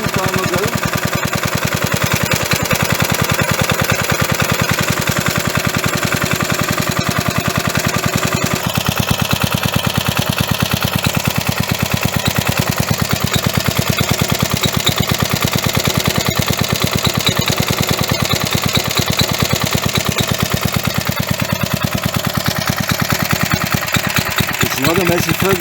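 A 37-year-old Briggs engine chugs into life and settles into a rapid, steady idle, loud and close, with an uneven throbbing putter throughout.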